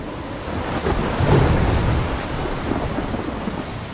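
Thunderstorm in the video game Life is Strange: a low rolling thunder rumble swells and fades over steady, dense rain hiss, loud and continuous with no voices.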